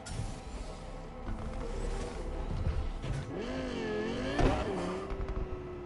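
A car driven in the video game Cyberpunk 2077 Phantom Liberty, its engine droning steadily and rising in pitch as it revs and accelerates, with a louder swell near the end.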